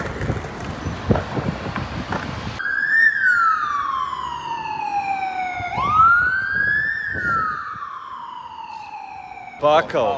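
A loud, nearby ambulance siren wails with long rising and falling sweeps, rising over muffled noise and voices from crowds celebrating FC Barcelona's title in Barcelona, then a final brief siren burst.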